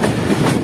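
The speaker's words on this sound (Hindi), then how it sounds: "ये आ रही रावी पैसेंजर" A Ravi Passenger train passes close by: a brief, loud, steady rumble of rolling wagons with no voices.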